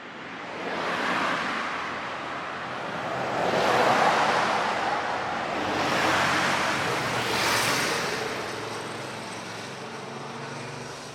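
Ocean waves wash onto a shore in Japan, rising and falling in slow broad swells of surf with wind noise, steady and fairly close with no voices.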